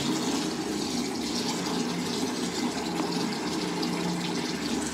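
Water runs steadily from a tap, likely filling a tub to bathe a child at home, a constant broadband gush close by with no talk over it.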